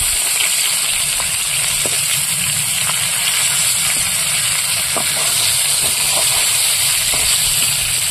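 River tengra fish frying in hot oil makes a loud, continuous hiss close by, with faint scattered pops and no talking.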